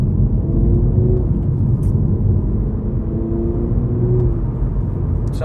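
Car tires roll over a rough UK road surface, giving a loud, steady low rumble and roar from inside the moving vehicle with no voices.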